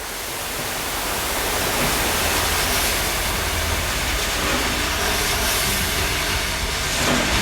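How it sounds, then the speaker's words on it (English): A steady, loud wash of white noise hiss used as a transition between two songs fills the whole stretch, broad and unchanging, swelling slightly at the start. "using white noise as a transition point between those two songs"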